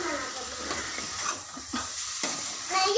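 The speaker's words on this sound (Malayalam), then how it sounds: "നമുക്ക് നല്ലപോലെ ഇളക്കി കൊടുക്കാം" Chicken curry being stirred in a pan, a quiet simmering sizzle broken by several distinct scraping strokes of a spoon against the pan, close and unaccompanied by talk.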